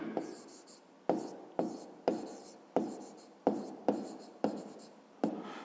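A pen writes an answer to a fifth-grade maths exercise by hand, with about ten crisp scratching strokes in a quick, uneven rhythm, close and quiet.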